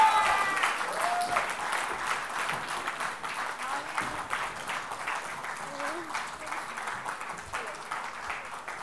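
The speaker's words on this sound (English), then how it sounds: "Please give them a big round of applause." An event audience applauds fitness coaches walking on stage at a health event, with steady, sustained clapping throughout, fairly loud and continuous, with faint voices mixed in.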